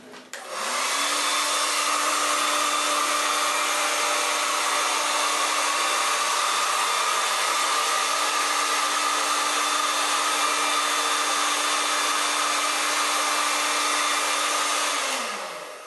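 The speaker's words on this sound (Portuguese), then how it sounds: "Então eu vou pegar o secador para adiantar isso" A hair dryer blows to speed up the drying of a paint base on good-quality paper, a steady loud whirring hum that switches on, holds evenly for about fifteen seconds, and then winds down, with no voices.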